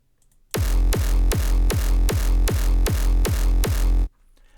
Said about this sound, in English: here's only one kick, and let's hear how it sounds like